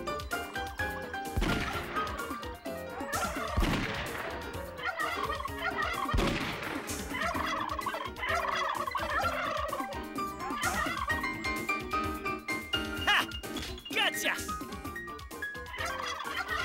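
Cartoon turkey gobbling in a comic chase scene, loud repeated warbling gobbles layered over orchestral music with sharp crashes and whacks throughout.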